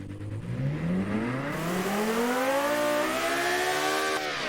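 A roughly 1,000-horsepower race car engine in the Automation/BeamNG video game revs up loudly and steadily, its pitch climbing smoothly over several seconds before briefly dropping back near the end.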